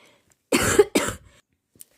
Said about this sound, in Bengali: কাশির কারণে ভিডিওটা শোনার প্রবলেম হতে পারে, ক্ষমা করে দেবেন।